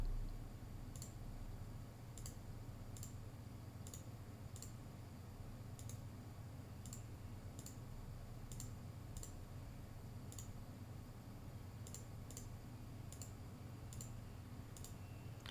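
Faint, regular key clicks from a computer keyboard used to flick through Football Manager 2023 screens, tapping in short bursts over a steady low background hum.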